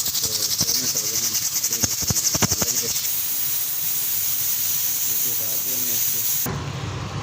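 A pressure cooker holding mutton hisses steam loudly and steadily, with a rapid rattling pulse at first that smooths into a continuous jet, then the noise abruptly drops as the steam cuts off near the end.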